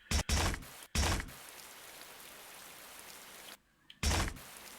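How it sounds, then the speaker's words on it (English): Placeholder rain effect in Duke Nukem 3D Reloaded, a constant hiss of rainfall broken by several short, loud thumping bursts, with one brief drop to near silence before the downpour returns. "it's a little weird they used a rain sound effect"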